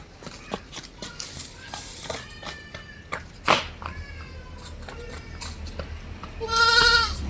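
Crossbred goat kids, weaned onto fodder and water, bleat at a farm sale. Scattered clicks and small calls lead up to a loud, wavering bleat close by near the end.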